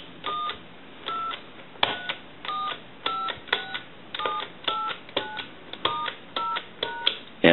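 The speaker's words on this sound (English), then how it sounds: "if you watch the analyzer, we want to dial our numbers" Numbers are dialed on an Italian business telephone under repair, a regular series of distinct touch-tone beeps, each short and clear, with brief gaps between presses and a thin line hum behind.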